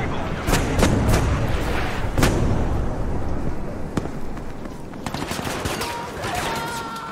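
A video game firefight with several loud booming explosions and sharp gunshot bursts in irregular succession, close and dense, with a grenade among them and some voices under the noise.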